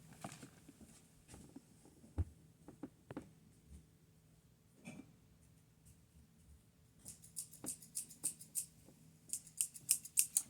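Quiet snipping of scissors, scattered clicks early on, then a faster run of small crisp cuts near the end, close but faint.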